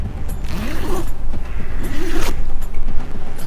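A bag's zipper is pulled open in two close, loud, ratcheting runs, each with a rising scratchy pitch, amid handling rustles.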